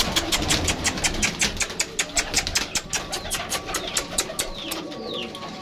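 Pigeons in a cage coo and flutter close by, producing a rapid series of sharp pecking-like taps along with soft cooing, and no one speaks.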